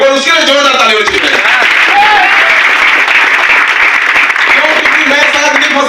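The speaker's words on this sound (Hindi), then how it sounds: "एक बार उसके लिए जोरदार ताली बजाइए।" Loud, continuous audience applause at a business leadership event, with talking and some laughter layered over the steady clapping throughout.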